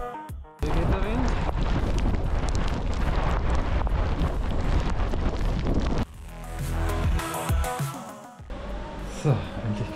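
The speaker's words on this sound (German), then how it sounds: "Hier geht der Wind." Strong wind buffets the microphone outdoors during a bikepacking trip in Slovenia, heavy low rumbling gusts roaring for several seconds and then easing into gentler, intermittent blustering.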